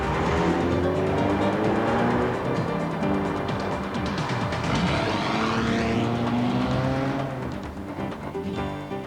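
A Vauxhall Calibra carries steady engine drone and road roar through a run of bends, the pitch rising and falling with the throttle, loud and continuous with no talk.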